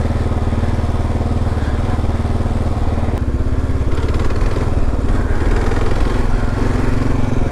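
A motorcycle engine running steadily nearby, a loud, even low-pitched throb with a rapid rhythmic pulse that stays constant throughout, with no voices.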